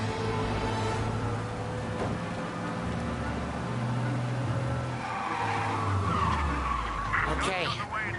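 In the game Mafia, a car drives fast, its engine droning steadily with tires skidding and squealing near the end.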